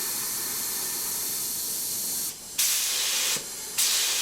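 A spray gun hisses steadily as it applies 50-50 mixed epoxy paint to a camper van headlight surround panel, then sputters through two short bursts after a brief pause, close and fairly loud.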